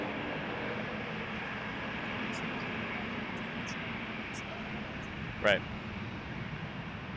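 An AeroLogic cargo airplane at Toronto Pearson Airport gives off a steady, broad engine roar that holds at an even level throughout, with a brief word spoken partway through.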